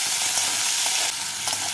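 Chopped onions sizzle in hot oil in a pan after a tempering of dried red chilli and five-spice seeds, and the sizzle stays dense and even while they are stirred, with no voices.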